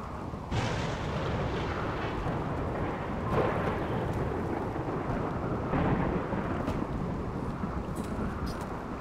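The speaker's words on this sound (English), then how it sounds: "Lightning, great." A thunderstorm rumbles through RimWorld with continuous rain-like wash and low rolling thunder, louder crashes building near the three- and six-second marks, steady and fairly loud throughout.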